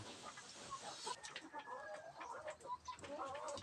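Laying hens kept in a cage coop make soft, scattered clucks and short calls, fairly quiet, with a faint background hiss and no talking.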